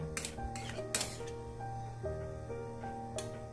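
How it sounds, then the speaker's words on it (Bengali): A metal lid set onto a cooking pot of jackfruit and potato curry on low heat, giving a few clinking metallic knocks with ringing tones, close and fairly quiet, no talk. "কম আঁচ করে এবার ঢাকা দিয়ে দেব"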